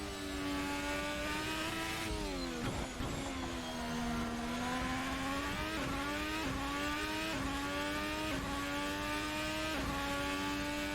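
A Mercedes car on a hot lap of the French Grand Prix circuit, its engine wailing steadily through repeated gear shifts and revs, loud and sustained with no talk.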